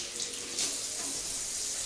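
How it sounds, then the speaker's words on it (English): Hot tap water pours steadily from a kitchen faucet into a container, a continuous close hiss and splash with no talking. "And we can go ahead with hot tap water."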